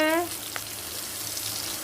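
Radhuni seeds and green chillies sizzle in oil with a steady hiss and an occasional pop, following a brief high-pitched tonal whine at the very start.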